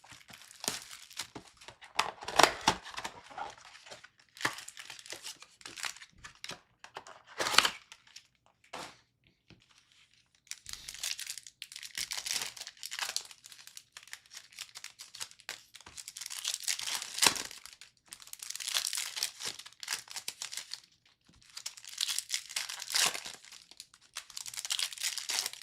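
Panini Prizm Phoenix football card blaster packs being torn and crinkled open: repeated bursts of crackling foil and paper rustle, close and loud, broken by brief quiet gaps, with no voices.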